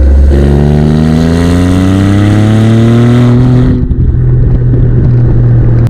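A 2024 Maserati GranTurismo Trofeo's engine revs loud and close, its tone climbing steadily for about three seconds before the throttle lifts and it drops back to a lower, rumbling hold.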